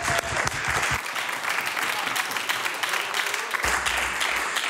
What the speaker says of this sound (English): I ask all of us to give Mr. Haddad an applause for that great achievement.